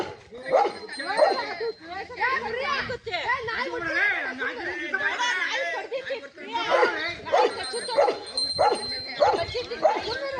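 A Rottweiler barks, yelps and whimpers while fighting a cobra, its sharp repeated cries loud and close, with people talking over the commotion throughout.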